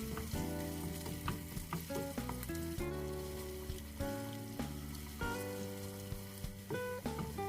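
Onion masala paste fries in oil under continuous stirring, producing a soft crackling sizzle with intermittent scraping. Steady tonal music plays over it throughout.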